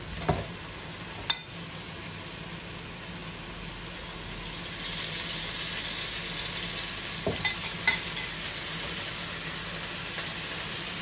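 Beef roulades sear in oil in a pan with a steady, quiet sizzle, broken by a few sharp clinks and taps of a utensil against the pan.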